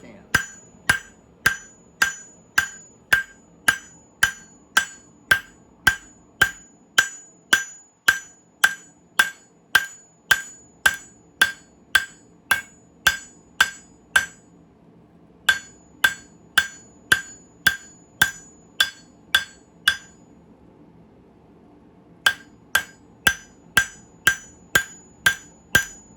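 A hammer strikes a forged steel knife blank on an anvil in evenly spaced, ringing metallic blows, loud and close, with two short pauses breaking the steady rhythm.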